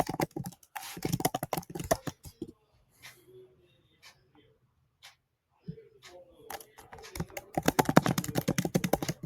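Fast typing bursts on a computer keyboard while an escrow contract for a Solana program is written, dense clatter at the start and end with a sparse, quiet stretch of scattered key taps in the middle.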